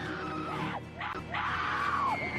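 A woman screams in agony as a walker bites into her neck during a zombie attack, loud sustained cries with rising and falling pitch that run continuously through the moment.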